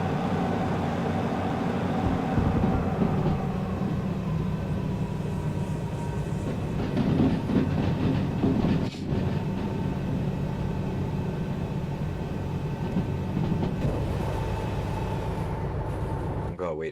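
A long freight train in a train-derailing video game rolls along with a steady, loud low rumble and rattle throughout, with a soft voice faintly under it.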